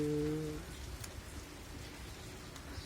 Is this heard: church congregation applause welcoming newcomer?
no